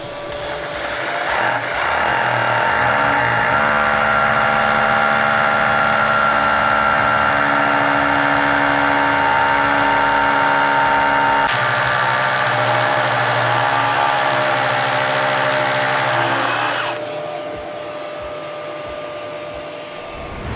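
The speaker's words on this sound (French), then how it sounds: "la même opération avec un forêt aspirant relié à un aspirateur" A loud, steady vacuum roar mixed with the whine of a drill fitted with a dust-extraction bit runs continuously for most of the clip, then drops to a lower hum near the end.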